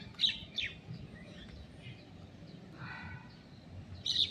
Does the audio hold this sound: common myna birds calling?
yes